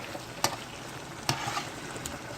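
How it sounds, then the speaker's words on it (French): Sea bream simmers in spiced sauce with thyme in a pan over lowered heat, a steady soft bubbling sizzle with a few brief clinks of a utensil against the pan, close and fairly quiet. "Puis là, on baisse le feu, puis on évite de brasser trop"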